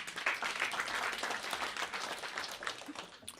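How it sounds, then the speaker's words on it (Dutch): A theater audience breaks into steady, dense applause at moderate distance, a continuous wash of clapping that holds for a few seconds before tapering slightly. "Applaus."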